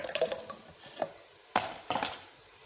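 One kilogram of yogurt goes into a jug for lassi, heard as a series of soft wet plops and spoon scrapes, with two sharper thuds and clinks against the container near the end.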